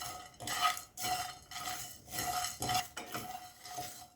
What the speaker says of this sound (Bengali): গোটা মশলাটা 3 মিনিট ভেজে নিয়েছি